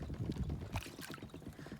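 An electric boat fitted with solar panels cruises on Lough Neagh, giving a steady close-up wash of water and wind noise with soft splashes against the hull, and no voices.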